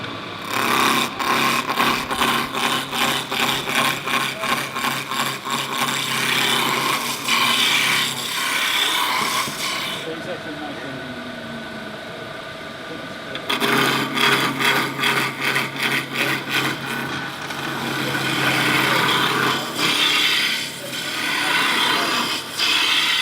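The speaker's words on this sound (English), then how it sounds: "Using the roughing gouge, we take all the rough corners off down to a round." A roughing gouge cuts a Scottish stirring stick blank on a wood lathe, knocking the corners down to round: a steady, close rasping scrape with fluttering chatter, pausing briefly midway before resuming, with no talking.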